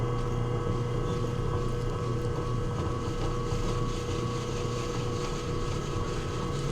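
A rock buffing on a polishing machine gives a steady, dense motorized whir with grinding texture, running continuously and fairly loud throughout with no talk.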